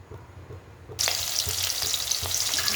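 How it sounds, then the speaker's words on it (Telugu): Onions dropped into hot oil in a pan for a fish gravy curry: a sudden bright sizzle that then holds steady and close, with faint stirring taps underneath. "ఆయిల్ వేసేసింది, ఆనియన్స్ వేసుకున్నాం. ఫ్రైలా పెట్టాము"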